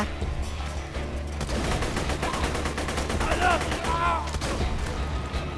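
Rapid bursts of gunfire in the video game Borderlands 2 crackle in dense, repeated volleys over a steady rumble, with a few electronic tones and a voice briefly heard underneath.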